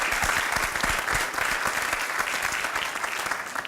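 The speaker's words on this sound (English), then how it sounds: "I think that just deserves a big round of applause for all that" An audience at a college elevator pitch competition breaks into a big round of applause, dense continuous clapping that fills the room and stays steady before slowly easing.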